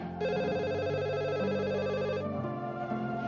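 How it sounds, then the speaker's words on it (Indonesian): A telephone rings with a steady, continuous electronic trill that runs loud and unbroken for over three seconds, with no talk over it. "Tunggu ya, Mbak angkat telepon dulu ya."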